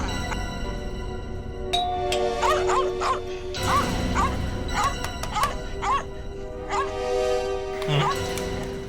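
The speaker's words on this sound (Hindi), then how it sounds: "लगता घर में कोई है नहीं, कुत्ता परेशान है" A dog confined inside a house barks and yelps repeatedly in short, agitated bursts with whimpering between them, moderately near, while people talk over it.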